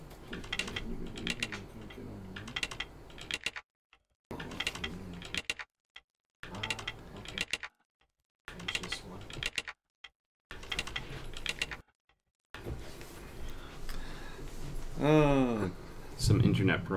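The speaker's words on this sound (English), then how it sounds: "That keyboard thing is going to be infuriating." Keyboard typing from the video game Parasite Eve comes in quick bursts of clicky keystrokes, stopping and starting with short silent gaps. A voice talks over the last stretch.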